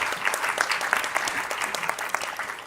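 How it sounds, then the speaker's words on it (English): A hall full of people clapping for the senior advocates at a lawyers' quiz grand finale, brisk, loud applause with many distinct close claps over a dense background of clapping. "I think they deserve a huge round of applause for the same."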